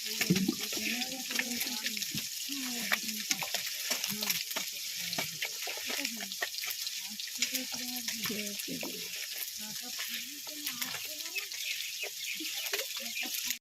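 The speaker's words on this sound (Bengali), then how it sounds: "মাছ ভাজা হয়ে গেছে, এবার আমরা মাছ ভাজা নামিয়ে নেব।" Steady, dense sizzling of small mourala fish frying in mustard oil runs throughout, with scattered crackles and faint voices in the background.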